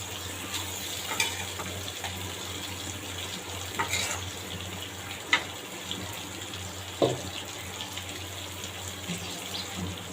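Medium prawns frying and being stirred into cooked-down spice paste in oil for a prawn curry, giving a soft steady sizzle with occasional spoon clinks and scrapes, close and fairly quiet, no talking.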